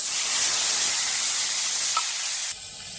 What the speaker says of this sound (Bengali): এবার দিয়ে দেবো কচু শাক।